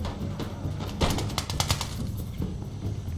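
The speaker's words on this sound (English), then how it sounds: "my troops are getting shot at by the pickle gun" A Puckle gun fires repeatedly at troops in the battle game Empire: Total War, a dense run of sharp gunshot cracks in uneven bursts over a low battlefield rumble.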